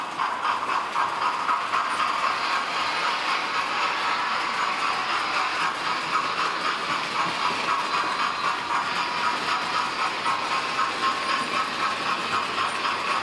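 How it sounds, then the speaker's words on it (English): A Hornby Merchant Navy class model steam locomotive sound effect with a fireman shovelling coal, a steady scraping, chuffing mechanical texture running continuously at even loudness with no pauses. "What you can hear is the guy shoveling the coal."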